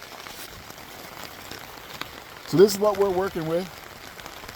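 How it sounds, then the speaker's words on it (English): Steady patter of rain fills the background, with a person speaking briefly over it partway through. "It is pouring, raining."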